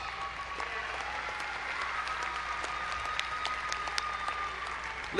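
Audience applause for graduates at an Angelo State University fall commencement ceremony, a steady wash of many hands clapping at moderate distance, even and sustained throughout without voices.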